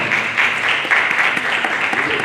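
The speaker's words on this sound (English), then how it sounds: "Give him a round of applause." A crowd at an induction ceremony applauds in a dense, steady wash of clapping that holds at the same level for the whole stretch.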